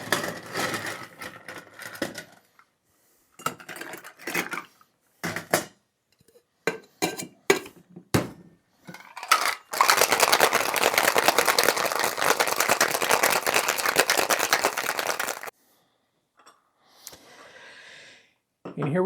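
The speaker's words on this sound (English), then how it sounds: "Now let's ice it down, shake it up," Ice cubes rattle hard inside a cocktail shaker during a Havana-style daiquiri with rum, a dense, loud shake lasting several seconds. It is preceded by clinks of ice being dropped in and by brief talk.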